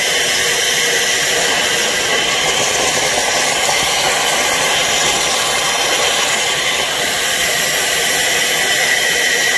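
Steady loud rushing hiss of compressed air forced through swimming pool plumbing lines during winter closing, a continuous broadband blast with no pauses and no talking.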